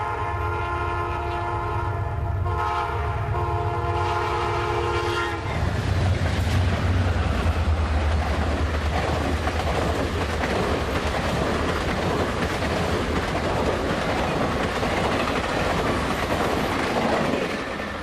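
A miniature live steam train at the Train Mountain Museum in Chiloquin, Oregon sounds a long, loud horn, then keeps rolling with a continuous rumble and wheel clatter.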